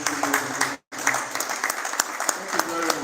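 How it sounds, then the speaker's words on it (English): Conference audience applause, a busy clatter of clapping that briefly cuts out near the start before resuming, with a voice speaking over it. "A round of applause for yourself."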